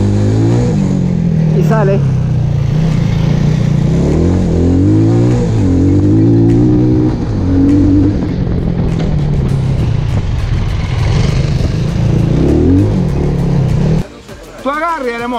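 A motorcycle on a riding-technique course brakes, drops through the gears and accelerates again, its engine note falling and rising in a series of revs, while an instructor talks over it and a clear burst of acceleration comes at the end.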